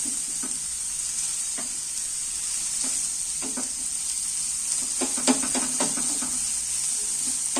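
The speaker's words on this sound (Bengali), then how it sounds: "পেঁয়াজ কুচোনা আর কাঁচা লঙ্কা কুচোনা এইগুলোকেও আমি এরই মধ্যে একটু নাড়তে থাকবো" Chopped onion and green chillies frying in a pan for an egg snack, a steady bright sizzle with a run of spatula scrapes and taps as they are stirred, busiest toward the end.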